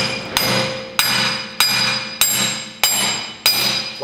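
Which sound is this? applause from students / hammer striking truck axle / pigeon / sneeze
hammer striking truck axle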